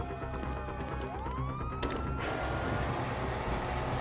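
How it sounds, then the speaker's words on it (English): Police car sirens in GTA V wail through a busy game mix, a rising siren sweep emerging over background music and effects, with no speech. "you hear that? Sirens!"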